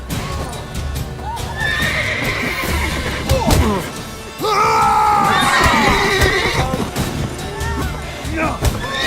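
Horse neighing and whinnying in The Witcher 3 video game, two loud whinnies standing out over clip-clop hooves, crowd shouting and a crash, with game voices and background commotion throughout.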